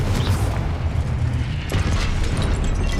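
A Confringo blasting curse explodes in Hogwarts Legacy, a loud, dense boom with rumbling debris that holds steady, then a second burst hits just before the two-second mark and rolls on to the end.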